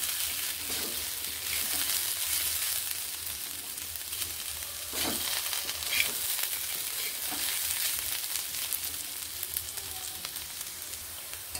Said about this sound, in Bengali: কাশ্মীরি লঙ্কার গুঁড়ো দেবার পরে এইভাবে ভালোভাবে মিশিয়ে আমি নেড়ে নিচ্ছি।